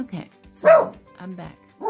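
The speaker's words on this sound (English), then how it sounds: "Excuse the dog barking." A dog barks in short yipping bursts, fairly close, with a person talking over and between the barks.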